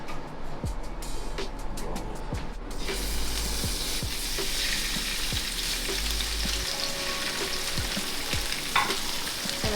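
Sheepshead fish frying in hot grapeseed oil in a pan, a steady loud sizzle and crackle throughout with occasional clicks of utensils stirring, no talking.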